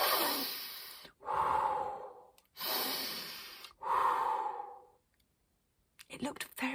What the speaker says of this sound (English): breathing loudly and deeply